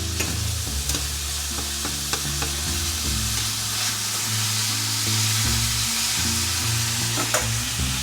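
Ground meat with onion and garlic fries in a pan for ragu sauce, a loud, steady close sizzle with scattered clicks of stirring and no speech.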